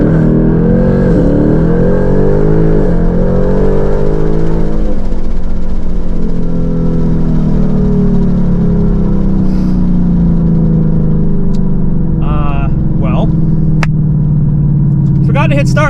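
A car accelerates hard from rest on a 0-60 run in Sport Plus mode with traction control on, on factory tires on a chilly afternoon. The engine note climbs steadily through the gears, loud and close, with voices talking over it.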